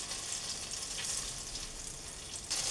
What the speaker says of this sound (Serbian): Čekamo da se puter, odnosno maslac otopi.